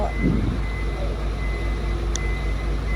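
A 12-wheel truck reverses into a garage, its backup alarm sounding a steady run of evenly spaced beeps over a low, continuous engine rumble, close and fairly loud.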